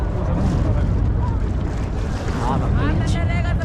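Boat ride on the Ganga river at Kashi: a steady drone of the boat and water under strong, continuous wind buffeting the microphone, with faint voices in the background.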